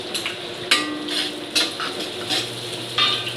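Chopped onion dropped into a hot pan for squid adobo, frying with a loud steady sizzle and a few sharp bursts as it is stirred, close up with no talking.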